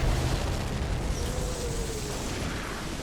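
Artillery shells burst in the strategy game Company of Heroes, producing a dense, rumbling barrage of distant booms that rolls on continuously without clear gaps.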